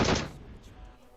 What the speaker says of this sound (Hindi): मैं यहां से प्री फायर दे रहा हूं, अंधा गोली चला रहा हूं